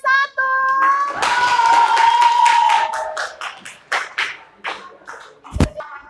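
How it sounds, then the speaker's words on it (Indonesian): A group in a teacher-training classroom session claps after a voice speaks, producing a short burst of close, uneven hand claps that thins into scattered individual claps and a few sharp taps. "Beri tepuk tangan untuk kelompok"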